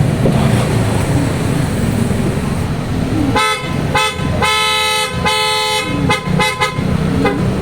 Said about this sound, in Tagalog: Testing natin ulit yung horn ni Sir.